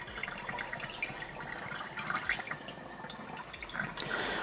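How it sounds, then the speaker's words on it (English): Used film developer being poured back into its storage container for reuse, a steady splashing liquid stream heard close up with no talk over it. "I want to make sure I pour my developer back into here because you can reuse it"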